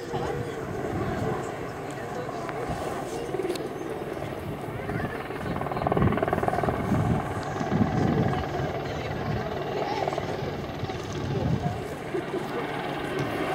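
Steady heavy rotor roar of a Sea King helicopter at an airshow, swelling louder around the middle as it passes overhead at about 60 knots, then holding a broad, droning rumble.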